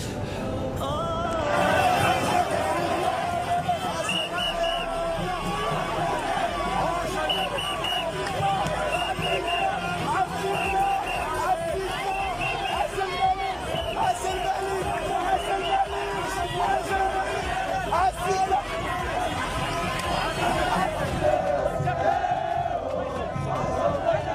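Big street crowds celebrate with the King of Morocco after the Moroccan national team qualifies for the quarter-finals, a dense roar of chanting and cheering that runs the whole time with many voices shouting together.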